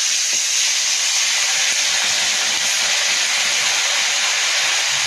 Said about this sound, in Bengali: এই যে মাছগুলো ভেজে নেব